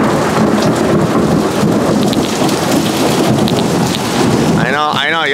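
Heavy rain pours steadily throughout a thunderstorm while deep thunder rumbles underneath, and a sharper crackling thunder burst breaks out near the end, all loud and close.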